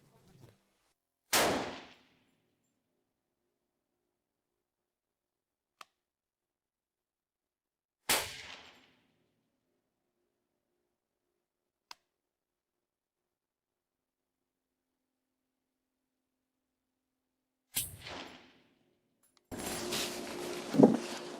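A Zastava M91 rifle fires three sharp, loud shots at a shooting range, spaced several seconds apart, each followed by a brief ringing decay. Faint mechanical clicks fall between the shots, and some rustling noise comes at the end.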